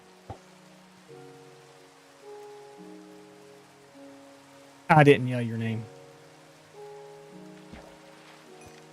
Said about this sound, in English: Looks like rain here.